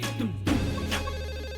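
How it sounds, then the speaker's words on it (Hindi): A telephone rings on an office desk, its tonal ring sounding in short repeated bursts against a steady low hum, moderately loud and close. "आपके डेस्क पे फोन बज रहा है, उठाइए जाइए"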